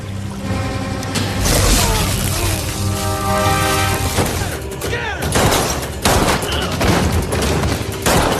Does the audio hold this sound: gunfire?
yes